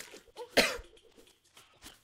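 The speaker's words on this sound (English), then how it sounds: "I'm kind of coughing to the mic there." A single sharp cough bursts out near the microphone, loud and brief, with faint rustling and quiet shuffling before and after.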